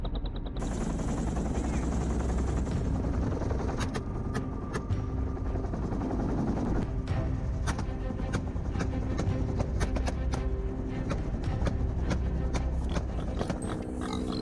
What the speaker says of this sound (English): The helicopter soared into the sky